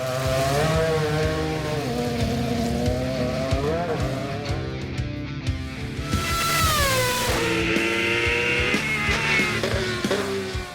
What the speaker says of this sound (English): This is the first time Max will drive a Formula One car on the limit